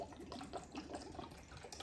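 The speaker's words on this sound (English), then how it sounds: "all I'm going to really need to do is put water in here" Water poured into the base of a cut plastic soda bottle with holes in it, used for rooting ficus cuttings; a soft, faint, bubbling trickle that runs continuously for about two seconds.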